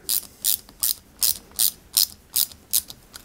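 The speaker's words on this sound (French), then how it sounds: "on y met une vis UM et on vient tout simplement la visser" A screwdriver ratchets a small screw into a pulley on a 1/8-scale Ferrari 330 P4 model kit, producing eight crisp, evenly spaced clicking bursts, close up and alone.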